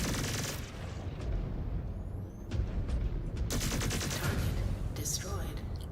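Heavy weapon fire booms through a Mechwarrior 5: Clans battle, with Gauss shots landing in a dense, continuous barrage of loud blasts and rumbling impacts.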